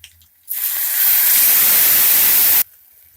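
Tamarind water hits a hot tempering of cumin, garlic, green chili and curry leaves for rasam, bursting into a loud, sustained hiss for about two seconds before cutting off abruptly into near silence.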